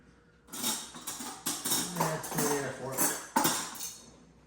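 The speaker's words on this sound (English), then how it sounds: "We're gonna mix all this together. This is gonna be our filling for our jalapenos." A spoon mixing jalapeño popper filling of cheese in a bowl, giving rhythmic scraping knocks and clinks against the bowl at about two strokes per second, close and fairly loud.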